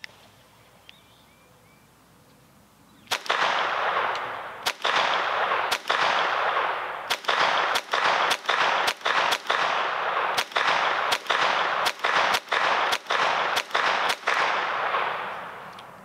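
A Taurus TX22 .22 semi-auto pistol firing Remington Thunderbolt rounds, fifteen sharp, loud shots in a fairly steady rhythm after a quiet start, each crack followed by a lingering outdoor echo.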